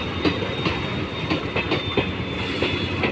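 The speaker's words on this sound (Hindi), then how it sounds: "तो ये जो है ये पैसेंजर लेने वाला ट्रेन है गाइस" Passenger train passing at Baramura Eco Park, with a steady loud rumble of rolling railcars and regular clickety-clack wheel beats over the rail joints, close by and continuous throughout.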